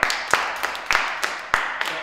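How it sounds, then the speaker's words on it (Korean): A small group claps briefly during a fitness training session, with a handful of sharp, uneven claps over a couple of seconds, fairly close. "박수 한번 주세요"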